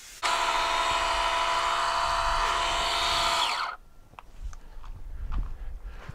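A DeWalt inflator hums steadily and loudly for about three and a half seconds while airing up a tire. Its motor whine then cuts off, leaving faint handling clatter and low rumbling.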